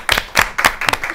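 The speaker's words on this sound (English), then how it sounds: "let's go on and give them a round of applause" A studio audience at a college TV show claps in a round of applause, a few sharp, close bursts of clapping coming in uneven waves, fairly loud with no talk over it.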